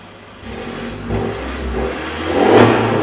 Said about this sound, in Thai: ท่อแซดเสียงหวานด้วยโอ้โหโชว์สักหน่อย